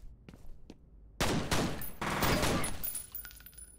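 Pistol gunfire in the first-person shooter game F.E.A.R.: loud, dense bursts of rapid shots after a quieter opening with a few faint knocks, echoing and trailing off toward the end.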